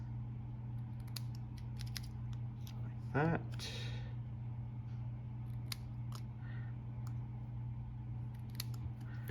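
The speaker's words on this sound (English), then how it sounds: "I'm just going to take a pair of snips and cut it down a little bit" A pair of snips cuts through a strip of card paper in one short burst of crisp snipping near the middle, over a steady low hum and light handling noises, with brief talk at the end.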